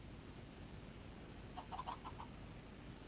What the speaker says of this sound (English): And hey presto, a baby chicken.